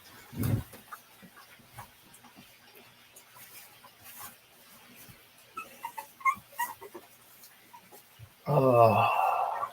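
Puppies whimper and yip at a farm, soft scattered squeaks and little cries through the middle, then a louder burst of yipping near the end, with a thump at the start.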